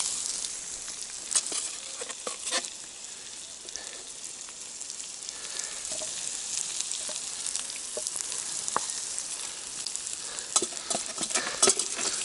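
Steady crackling sizzle of food frying in a pan, with occasional sharper pops and spatters over a continuous hiss.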